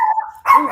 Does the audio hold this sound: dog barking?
yes